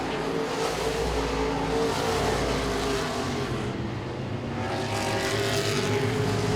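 Modified race cars circle Langley Speedway, several engines droning loudly together with steady harmonic whine, the pitch swelling and fading slightly as the pack passes; a commentator talks over the roar.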